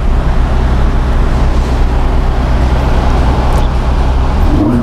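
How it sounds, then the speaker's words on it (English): Ferrari 458 engine in slow Hong Kong traffic, a loud, steady low rumble that sits close and continuous under general road noise, with no talking. "The sound of the car is like a natural Viagra"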